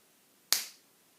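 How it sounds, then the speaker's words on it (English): One crisp finger snap, close and clear, a short bright click with a brief fading tail against near silence. "That was a snap."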